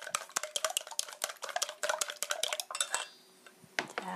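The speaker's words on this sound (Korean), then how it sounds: "이렇게 잘 소금간과 달걀이 잘 섞이게 이렇게 잘 불어주시고요." Eggs and salt whisked in a bowl, a rapid run of close, bright clinks and scrapes against the bowl for about three seconds, then a brief pause before a few more taps.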